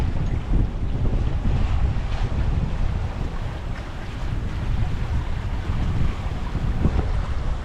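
Strong wind roars steadily over a sailboat in a tidal channel in Fiji, with loud, continuous buffeting gusts dominating the low end and water and boat noise mixed beneath, no voices.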